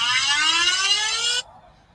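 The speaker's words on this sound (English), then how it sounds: "that is the Red Cross emergency app going off" A phone's Red Cross emergency app alarm blares a loud, harsh buzzing tone for over a second during an EF-1 tornado, then cuts off abruptly into near silence.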